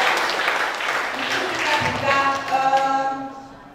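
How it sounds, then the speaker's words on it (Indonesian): An audience at a dance discussion session on comic dance applauds in a steady wash of clapping that fades toward the end, with tonal music or voices rising over it. "Tepuk tangan sekali untuk mereka bertiga ya"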